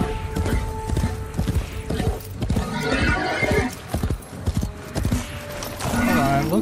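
A horse in the video game Warframe clip-clops along with steady close hoofbeats, then lets out a loud whinny near the end, all over game music and effects.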